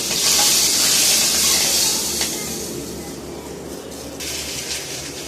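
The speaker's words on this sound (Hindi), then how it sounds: "ये देखिए तड़का।" Tadka sizzling hot in a kadhai while tempering moong dal, a steady loud hiss and crackle of frying that eases off slightly partway, with a brief fresh burst near the end.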